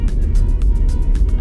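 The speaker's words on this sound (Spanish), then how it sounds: "Acá yo voy a 40 km por hora y el carro sigue en segunda" A Renault Logan with an automatic gearbox cruises at about 40 km/h while still held in second gear, its engine and road noise forming a loud, continuous low rumble from inside the cabin.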